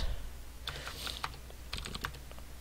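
Fast, light clicking of typing on a computer keyboard, quiet and close, in irregular bursts of keystrokes with no one talking.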